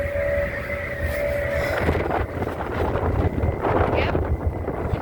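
Strong wind on the deck of a ferry at night roars steadily across the microphone, with engine hum and a faint tone beneath, loud and continuous without speech.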